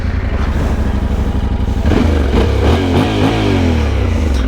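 A Yamaha Tenere 700 motorcycle engine with stock exhaust idles loudly and close, a rough rapid putter that shifts to a throatier, uneven chug partway through.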